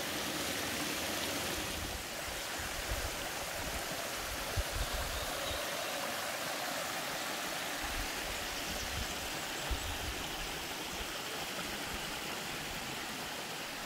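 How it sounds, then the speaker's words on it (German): A brook runs down into another stream on a hiking loop near Vaumarcus by Lake Neuchâtel, giving a steady, close, broadband rush of flowing water that continues without a break. "Und hier geht dann dieser Bach runter in den anderen."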